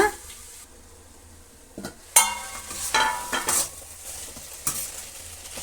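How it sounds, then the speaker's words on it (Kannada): Bottle gourd sambar is stirred in a covered pan, with a spoon scraping and clinking against the metal in a few irregular strokes over a faint simmering hiss; no voices. "ಈ ರೀತಿ ಎರಡು ಮೂರು ನಿಮಿಷಕ್ಕೊಂದ್ಸಲ ಕ್ಲೀನಾಗಿ ಈ ರೀತಿ ಕಲಸಿ ಮತ್ತೆ ಮುಚ್ಚಳ ಮುಚ್ಚಿಬಿಡಿ"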